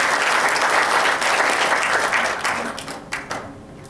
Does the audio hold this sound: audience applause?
yes